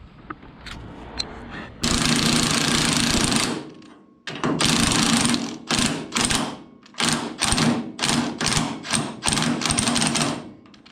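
A pneumatic impact wrench works loose a trailing arm bolt on a class 5 off-road car, firing in a long loud burst and then a series of shorter rattling bursts, close up.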